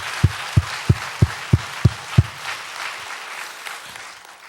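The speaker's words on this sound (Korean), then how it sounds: "박수로 영광 올릴까요?" A church congregation claps in unison during a Korean sermon, about seven sharp, evenly spaced claps before fading into scattered soft rustling and room noise.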